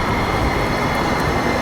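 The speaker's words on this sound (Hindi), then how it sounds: "तभी अंधेरी टनल से मेट्रो आकर रुकी" A metro train rolls into a station out of a dark tunnel and comes to a stop, a steady, loud rumbling roar of wheels and carriages filling the platform throughout, with no voices.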